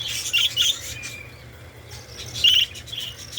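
Parakeets chirping inside a breeding cage, with short bright tweets in two bursts over a low steady background hum.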